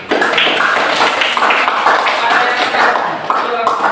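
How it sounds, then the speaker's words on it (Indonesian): An audience at a classroom health presentation gives a round of applause, dense close clapping that stays loud and steady for a few seconds. "sekali lagi kita beri tepuk tangan untuk"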